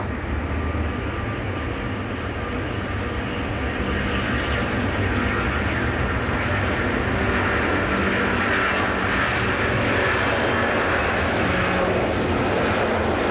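Airbus A380 jet taking off from runway 14 right during a flight test campaign, a loud, continuous broadband engine roar that holds steady throughout, with no speech over it.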